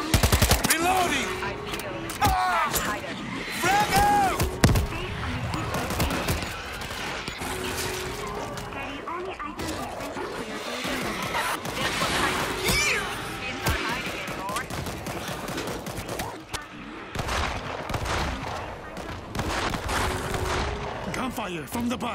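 Sustained automatic gunfire in the zombie shooter World War Z Aftermath, Tokyo level, with continuous rapid bursts and overlapping shots, loud and dense throughout, mixed with game voices and effects.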